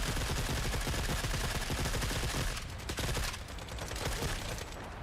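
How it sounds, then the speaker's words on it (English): Enemies firing from inside a bunker in The Forever Winter: dense, continuous automatic gunfire, loud and sustained, with overlapping bursts and barely any pause. "They're shooting me from inside the bunker."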